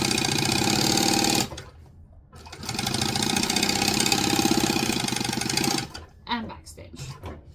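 Domestic sewing machine running steadily while top stitching fabric for a handmade water-bottle carrier, in two sustained bursts separated by a short pause, close and loud, followed by faint handling sounds.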